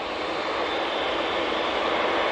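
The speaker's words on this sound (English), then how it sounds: "Got a lot of aircraft making their way over to us now." Aircraft passing over Manchester Airport, a steady broad engine roar holding loud and even throughout with no voices.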